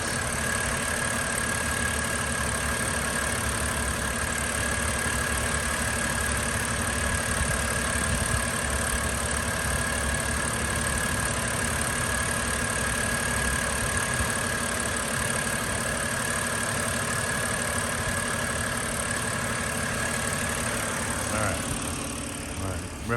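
A 2011 BMW 328xi with 104,000 miles idles at close range, a steady unbroken engine hum holding an even level for over twenty seconds with no one talking.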